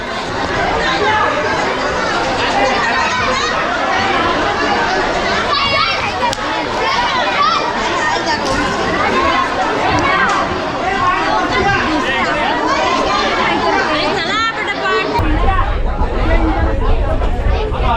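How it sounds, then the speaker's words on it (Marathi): A dense crowd of passengers pushes to board a Konkan Railway Ratnagiri–Diva passenger train during monsoon travel, with a loud, continuous babble of many voices, shouts and children's calls filling the whole stretch, close and unbroken. "झुंबड उडाले नसे चढायला"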